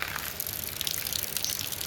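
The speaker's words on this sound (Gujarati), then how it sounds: "અત્યારે થોડો થોડો ચાલુ છે, ઠંડો ઠંડો વરસાદ છે" Light cold rain falling outdoors, a steady close patter of water with small irregular splashes and drips, fairly soft throughout.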